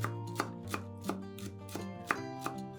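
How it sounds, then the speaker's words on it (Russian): Rhythmic knife chops through a small bunch of parsley on a cutting board, about eight evenly spaced strikes, close and clear, with a steady musical bed underneath. "Нарезаем небольшой пучок петрушки."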